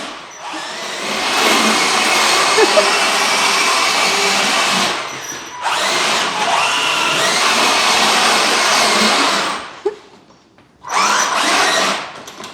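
A Volantex 1:12 scale RC all terrain tank crawler drives across a kitchen counter, its electric motor whining loudly and close in long bursts separated by brief pauses.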